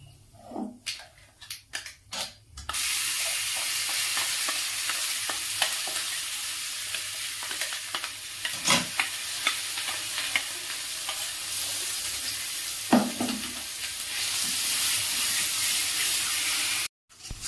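Beetroot paste frying with black cumin in hot oil, a loud steady hissing sizzle broken by bursts of spatula scraping and stirring, close and continuous, no talking.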